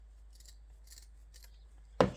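Scissors cutting hedge material for an OO or N gauge model railway: faint rustling handling noises, then a single sharp, close snip at the end.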